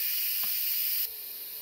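Steam hisses continuously from an Instant Pot pressure release, a loud, bright, close rush that drops noticeably in strength partway through but keeps going.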